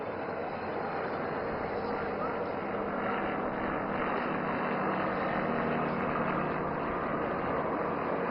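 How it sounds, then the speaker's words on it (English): An aircraft flying a figure-of-eight maneuver gives a steady, broad engine roar that holds at an even level throughout, with no spoken voice over it. "Now aircraft is entering into a maneuver of making figure of 8."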